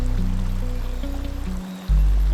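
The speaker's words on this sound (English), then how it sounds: "You'll hear the river." Underground river in an Indonesian cave, a steady low rushing flow of water close by, continuous and fairly loud, swelling sharply near the end.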